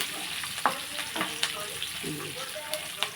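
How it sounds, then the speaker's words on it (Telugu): Dry red chillies and green chillies frying with onions in a pan, a steady close sizzle with a few sharp crackles and pops throughout, plus faint stirring. "ఇప్పుడు ఇందులో మనం ఎండుమిర్చి పచ్చిమిర్చి కూడా వేసేస్తున్నాము"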